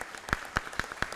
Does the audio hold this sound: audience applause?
yes